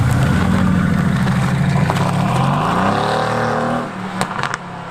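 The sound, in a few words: Mercedes-AMG car engine accelerating with sports exhaust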